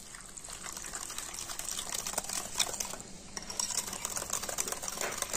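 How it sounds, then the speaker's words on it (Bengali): Sour yogurt and powdered sugar are whisked together in a bowl for a Turkish yogurt halwa dessert, a soft, continuous wet swishing and light scraping, faint and steady. "তো এখন আমি টক দই আর চিনি গুঁড়োটা খুব ভালোভাবে মিশিয়ে নেব।"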